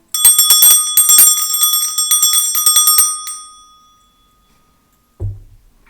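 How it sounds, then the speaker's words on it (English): A small hand bell rings rapidly, bright and metallic, to clear energy before a tarot reading. It shakes for about three seconds, fades into a lingering decay, then a soft thump follows. "I'm going to start by clearing the energy with my bell."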